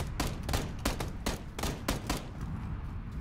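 Rapid gunfire in PUBG gameplay, about eight sharp shots in an uneven burst over three seconds, each a crisp crack with short decay, fairly close and alone without talk.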